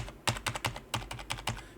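Fast typing on a computer keyboard while entering a customer's phone number into floral point-of-sale software: about a dozen crisp, close key taps in quick uneven rhythm, heard alone.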